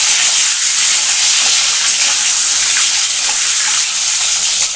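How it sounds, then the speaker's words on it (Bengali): Frying in a pan while making Bengali egg potato curry, a loud, close, continuous hiss of sizzling that stays steady throughout with no talking. "এটাকে একটু ভালো করে ভাজবো।"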